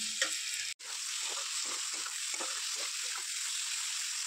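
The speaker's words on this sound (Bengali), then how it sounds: "পেস্টটা দিয়ে ভালো করে কষিয়ে নিলাম।" Crushed ginger and garlic paste fries in a pan for a Bengali Malabar spinach seed and dry fish dish, with a steady loud sizzle and soft stirring scrapes throughout, close and with no talk.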